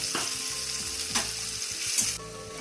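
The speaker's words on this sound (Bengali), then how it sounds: "পেঁয়াজগুলো একটু লাল করে ভেজে নেবো।" Onions fry in oil in a wok with a steady, close hiss of sizzling, joined by a few scraping stirs. The sizzle drops off abruptly near the end.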